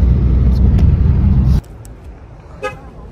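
A Ford Mustang's engine runs with a loud, steady rumble up close, then cuts off abruptly halfway through, leaving quiet background and a brief short sound.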